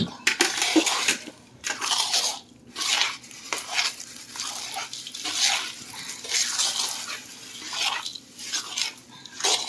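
Edible gum tossed into a pan of cashews and almonds while making adadiya at home, giving repeated rattling, scraping clatters of metal and loose pieces, close and fairly loud with a soft watery hiss between bursts.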